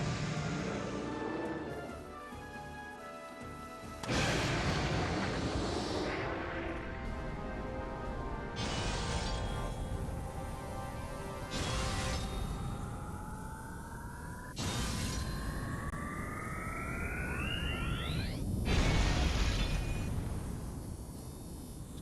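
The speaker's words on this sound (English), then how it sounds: "Quite a dramatic explosion." A string of heavy crashing blasts in the video game Oceanhorn 2, loud bursts spaced a few seconds apart over a rumbling backdrop, with a rising whine building before the final big explosion.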